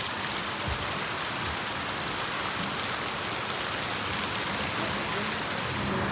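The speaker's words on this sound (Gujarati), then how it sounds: "વરસાદ તો આવ્યો" Rain falling over a village during a storm, a soft, even hiss of drops on surfaces that holds steady throughout with no voices.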